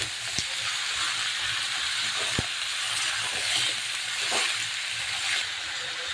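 Chicken meat frying in hot oil, a steady close sizzle and hiss that stays at an even level throughout, broken by a few faint taps, with no talking.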